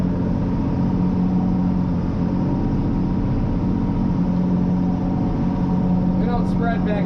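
A tractor pulling a spreader through a field corner gives a loud, constant engine drone and low rumble that holds steady throughout.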